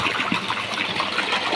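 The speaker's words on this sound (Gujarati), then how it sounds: "મસ્તનું પાણી આવે છે." Water rushes steadily into a farm tank, a close, continuous gushing flow with no pauses.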